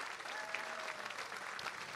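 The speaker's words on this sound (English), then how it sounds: "Let's give them a big round of applause." Guests applaud a $10,000 donation at the Minnesota Landscape Arboretum gala, a short, faint stretch of steady crowd clapping heard from a distance in a large room.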